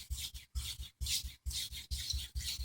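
A steel blade is worked across a whetstone at a low sharpening angle in a quiet, rhythmic series of gritty rubbing strokes, each pass separated by a brief pause.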